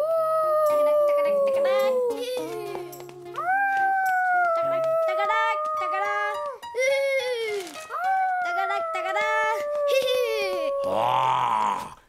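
A cartoon character voice imitates a wolf howling, a series of long rising and falling tonal howls with short pauses between them. A burst of noisier sound comes at the very end.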